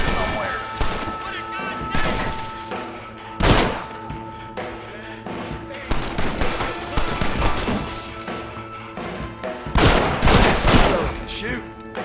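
Gunfire rings out in the Western shooter game Red Dead Redemption: loud, irregular shots and heavy bursts crack across a firefight, with voices shouting between volleys.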